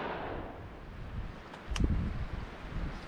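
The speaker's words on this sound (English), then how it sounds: "I'd say the wind picked up though." Strong wind gusts over tidal water during a duck hunt, a steady low rumbling buffet with one sharper surge of gusting near the middle, with no voices.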